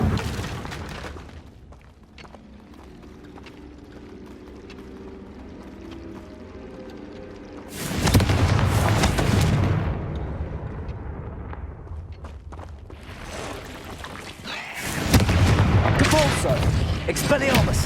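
Confringo blasting spell exploding in the video game Hogwarts Legacy, two loud booming blasts after quieter ambience, each bursting suddenly and rumbling off, with voices speaking around them.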